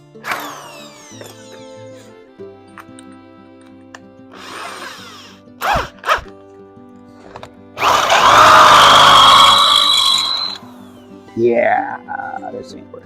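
A power drill whirs in several short bursts and one longer, louder run while drilling Land Rover front shock mounts, with a person speaking between the bursts.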